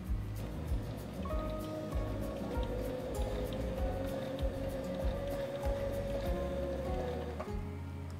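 A sewing machine stitches piping into fabric with a steady, close whirring hum and a faint tonal whine that runs almost the whole time, then drops off near the end. No one speaks.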